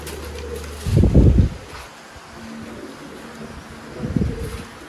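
Two bursts of low, soft cooing from pigeons close by, separated by a quiet stretch of ambient hum.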